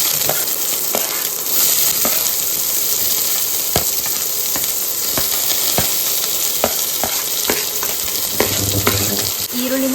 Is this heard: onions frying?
yes